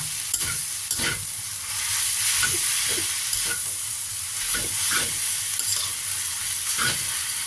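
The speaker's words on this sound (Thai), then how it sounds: "เวลาผัดเส้นเนี่ยแนะนำให้ใช้น้ำมันหมูดีกว่า" Noodles stir-fried in lard hiss and sizzle steadily, broken by repeated scraping strokes of a spatula against the pan, close and fairly loud with no talking.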